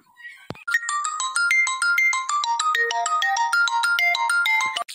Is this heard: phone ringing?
yes